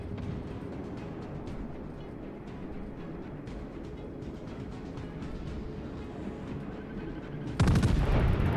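Warship guns firing in World of Warships, steady rumbling engine and gunfire texture with scattered reports, ending in a loud close salvo blast.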